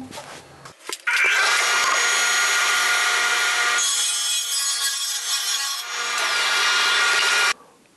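Table saw blade cutting a rabbet along a wooden shelf gable, a loud, steady whining cut lasting about six seconds that starts abruptly and stops sharply, with a brief pitch shift partway through.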